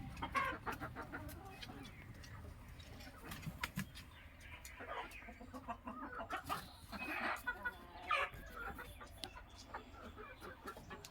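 Chickens cluck steadily on a poultry farm during the laying season, a dense flock of hens with scattered louder calls and faint crowing, close by, with some voices talking underneath.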